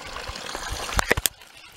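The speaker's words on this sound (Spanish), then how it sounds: "Esta es la fuente, ¿qué os parece?" Water from a spring-fed drinking fountain on the Camino de Santiago trickles softly, ending in a few quick splashy drips, close and fairly faint.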